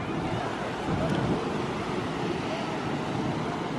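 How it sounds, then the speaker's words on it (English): Pacific Ocean waves at Santa Monica Pier at night, heard from up on the pier: a constant broad wash of surf with wind buffeting the microphone, steady and fairly loud throughout. "Waves from this angle."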